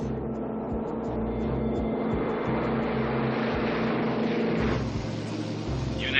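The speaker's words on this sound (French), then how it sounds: "TWA-02, autorisé à décoller piste 2-5 droite." A TWA airliner takes off from runway 25 right with a steady, loud engine roar that builds and holds, heard from a moderate distance with no voices.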